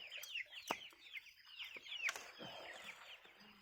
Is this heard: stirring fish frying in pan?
no